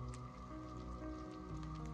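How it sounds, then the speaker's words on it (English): Rain patters steadily on a pickup truck camper early in the morning, a soft continuous drumming with scattered distinct drops over a low steady hum, no voices. "It's raining right now, actually."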